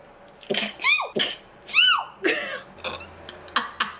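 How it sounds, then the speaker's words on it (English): A person sneezes several times in quick succession, loud and close, with sharp explosive bursts followed by softer breaths. "I'm about to sneeze again."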